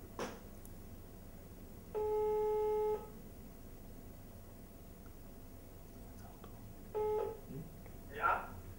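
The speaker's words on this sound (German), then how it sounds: "Wir rufen jetzt mal an." A phone line gives two long ringback tones about five seconds apart, followed by a brief voice answering faintly over quiet background noise.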